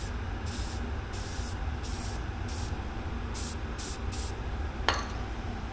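Short bursts of spray paint hiss repeat in an uneven rhythm over a steady ventilation fan roar from a paint fume extractor, with a brief sharp click near the end.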